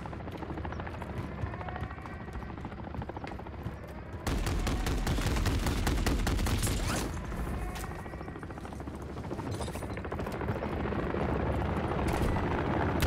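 An enemy helicopter churns overhead in Modern Warfare III while gunfire rattles. A steady rotor throb is joined by heavy, rapid bursts of shots that start abruptly partway through and continue loud to the end.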